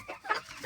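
Purebred chickens give a short run of soft, close clucks, rising briefly to a sharper note midway, with no one talking.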